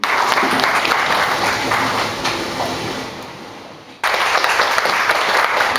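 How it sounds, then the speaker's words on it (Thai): A seminar audience at a rubber training event in Nakhon Si Thammarat claps loudly and steadily. The applause tapers off, then breaks off abruptly and resumes at full strength as though spliced. "ขอเสียงปรบมือให้ท่านอีกครั้งหนึ่งค่ะ"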